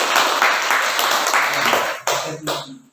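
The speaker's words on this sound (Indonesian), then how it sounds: "Tepuk tangan buat kelompok 1." Students in a classroom clap for a presenting group, brisk applause for about two seconds followed by a few scattered claps and murmuring voices as it dies away.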